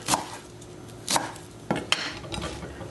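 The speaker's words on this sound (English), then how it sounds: "making little slices so they come out like ribbons" Knife slicing collard greens into ribbons on a cutting board, a few crisp chopping taps spaced about a second apart, close and fairly quiet, with no talking.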